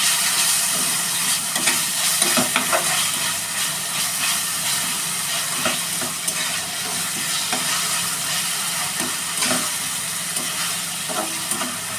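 Chicken frying in a pan with ginger garlic paste for a hotel-style chicken fry, giving a steady loud sizzle and hiss throughout, with faint stirring scrapes and no talking.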